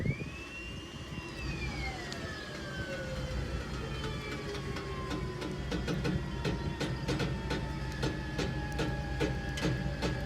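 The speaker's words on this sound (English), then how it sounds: "turn the winch controller on" A loaded winch pulling rope through a rope retention pulley at about 5600 lbs gives a whining motor tone that sweeps downward and settles, under repeated sharp clicks and rattles from the rope and pulley.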